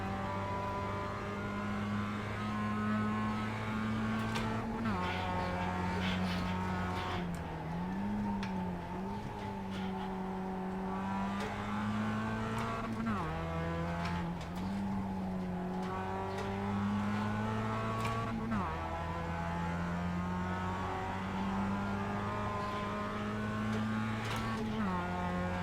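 A Mazda MX5 race car in the iRacing sim screams through steady high revs, with periodic sharp gear-change drops and faint tyre scrub, running continuously in the background while a voice talks.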